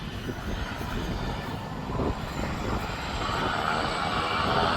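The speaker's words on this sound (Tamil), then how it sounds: "சத்தம் கேட்குது, விமானத்தை காணல." A plane's engine roars at an airport, a loud, steady, broadband drone that holds for the whole stretch and swells slightly toward the end, with no talking over it.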